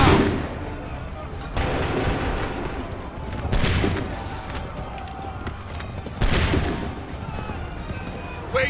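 Musket volleys in the video game Assassin's Creed III during the battles of Lexington and Concord, several loud sharp bursts of gunfire, some in quick succession, over a rumbling battlefield din with shouted voices.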